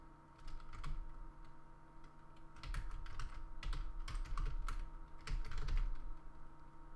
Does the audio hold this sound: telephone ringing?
no